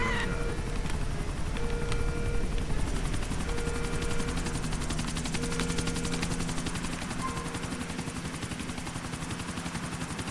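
Helicopter in Grand Theft Auto: The Ballad of Gay Tony, a steady rotor drone that runs alone through the whole stretch, mixed with other game sounds, with no talking over it.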